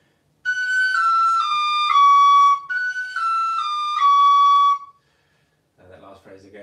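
Tin whistle playing a single reel melody in two clear phrases of stepwise notes, loud and close, followed by a brief burst of noise at the end.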